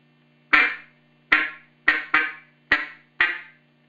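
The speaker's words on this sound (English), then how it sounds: "The clucks are made with saying the sound of K into the call." A duck call blown with six short clucks, crisp separate notes spaced irregularly with a quick pair in the middle, close and alone.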